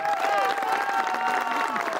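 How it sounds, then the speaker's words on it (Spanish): Applause for a newlywed couple at a civil registry wedding, a steady wash of clapping with a voice speaking over it. "ahora sí un fuerte aplauso"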